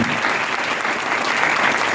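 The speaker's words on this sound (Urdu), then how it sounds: "ہاں جی یسوع مسیح کے لیے زوردار تالیاں بجا سکتے ہیں" A church congregation claps loudly during a sermon, a dense, steady burst of applause filling the whole moment with no voices over it.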